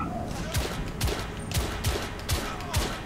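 Shotgun blasts in The Order: 1886, with about five heavy booming shots spaced roughly half a second apart, over steady game noise.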